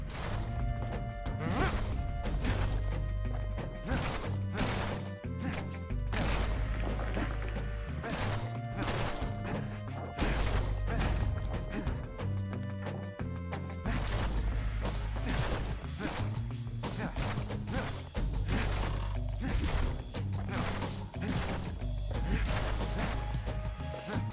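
Constant heavy smashing and crashing impacts in the video game Bastion, repeated thuds and whacks in a fast, steady rhythm over loud game music for the whole stretch.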